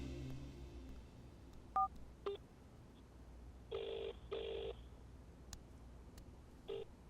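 Touch-tone telephone dialing, a few separate beeps then two longer tones and a final short one, faint and spaced out over a quiet background hum with no talk.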